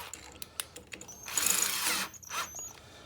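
Battery powered drill driving a DIY power feed on the compound of a Grizzly G0768 lathe, a short whirring spin-up that holds for about a second and then drops away, preceded by a few clicks and followed by a brief second burst, close by.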